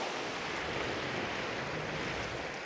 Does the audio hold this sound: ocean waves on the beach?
yes